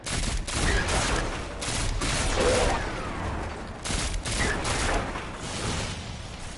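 Rapid gunfire from Destiny 2 crackles in continuous bursts during a strike against a big Vex enemy, fairly loud and dense, with short pauses between volleys.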